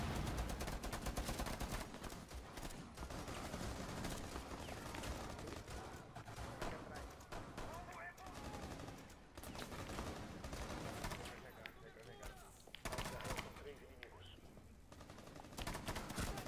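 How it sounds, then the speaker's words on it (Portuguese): Sustained automatic gunfire in the Rainbow Six Siege video game, dense rapid bursts of shots filling the clip with loud cracks and game effects, while players talk over it. "Então, Leandro, atira, atira sem parar."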